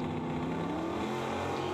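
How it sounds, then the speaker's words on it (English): Drag racing car engines roaring and revving steadily at the Route 66 street drags along Andy Devine in Kingman, a loud continuous harmonic drone heard from the stands with no talk. "Listen to the engines roar as they make their way down Andy Devine."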